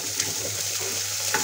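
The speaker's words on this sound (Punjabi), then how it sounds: "ਹੁਣ ਆਪਾਂ ਇਹਦੇ ਵਿੱਚ ਕੱਟਿਆ ਹੋਇਆ ਪਿਆਜ਼ ਪਾ ਦਾਂਗੇ" Chopped onion sizzling in a pan over garlic and ginger, a steady close crackle of frying with light stirring scrapes.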